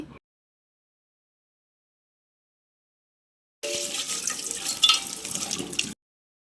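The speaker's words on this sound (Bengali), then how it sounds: "মাছ রান্না করার জন্য প্রথমে মাছগুলোকে ভালোভাবে ধুয়ে নিচ্ছি" Running tap water splashes over fish being washed for a fish curry, a steady moderately loud gush lasting about two seconds after a long silence, with no voices.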